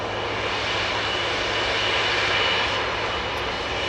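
An EasyJet jet airliner bound for Milan departs Manchester Airport with a loud, sustained engine roar that swells slightly midway and fills the scene without any speech.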